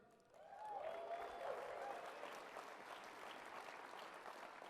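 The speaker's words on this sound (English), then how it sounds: "Big round of applause for production." A crowd at a real estate company's conference event applauds, dense clapping that swells early and then holds steady at a fairly quiet level with a faint voice over it.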